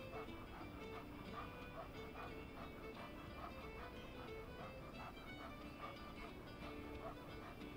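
Puppy whimpering and barking in the video game Life is Strange 2, heard under a dense, steady wash of game music and background noise that runs through the whole stretch, with no clear individual yelps standing out.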